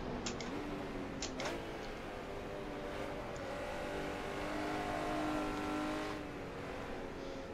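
Racing-game Honda NSX-R engine in rFactor, a sustained close engine drone with gently rising and falling revs and a few sharp clicks near the start, no talking.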